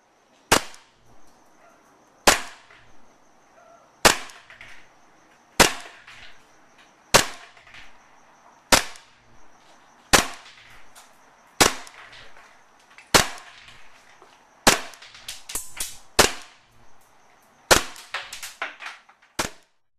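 A KSC G19 airsoft pistol fires at a range: sharp, loud cracks come singly at a steady pace of about one every second and a half, then a quicker cluster of shots near the end, with no speech.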